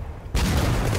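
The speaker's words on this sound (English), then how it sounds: "Oh, that's the artillery piece that's fired." An artillery piece in the video game Sudden Strike 4 fires with an abrupt, loud, heavy blast that rolls on as a sustained roar after a quieter lead-in.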